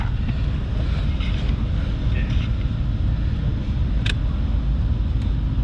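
A 1997 Ford Taurus SHO with a 3.4L V8 idles steadily, a constant low rumble with broadband noise and no talking.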